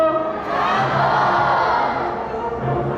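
A crowd of spectators shouts the name of a macaw together, a loud sustained chorus of many voices rising and holding for a few seconds.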